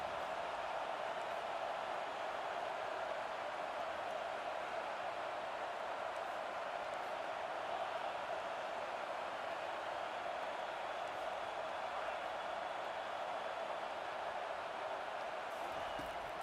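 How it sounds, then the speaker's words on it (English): A large video game football stadium crowd roars continuously at a distance, a dense, unbroken wash of noise that holds steady throughout. "Listen to this crowd just shaking the girders of this place, trying to help their defense."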